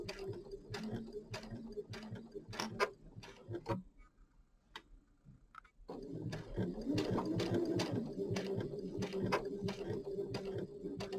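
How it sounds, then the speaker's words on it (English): A sewing machine runs in rapid ticking bursts, stops for a couple of seconds with only faint clicks, then resumes stitching steadily. "the fabric under here is going in the direction of the sewing machine"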